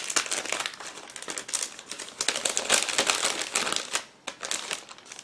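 Close, busy crinkling and rustling of a thin plastic bag being opened, holding parts of an ICM 1/72 scale model kit, with bursts of crackling and a short pause before more handling.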